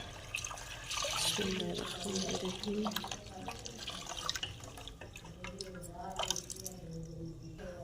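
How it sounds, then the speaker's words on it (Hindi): Four cups of milk poured into a pot while making tea, giving a splashing, trickling liquid sound with drips, moderately faint and under a speaking voice. "तो अब हम इसमें दूध डालेंगे। दूध हमारा 4 कप है।"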